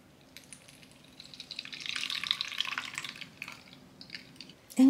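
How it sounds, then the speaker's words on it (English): Water poured out of a small toy potion bottle: a soft trickle and splashing that swells in the middle and fades, fairly faint and close, with a sharp knock at the very end. "Let's go ahead and pour the potion out."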